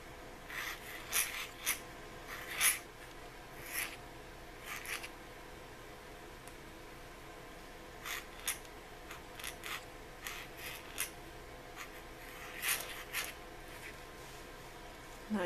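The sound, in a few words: pointed calligraphy pen writing iron gall ink on paper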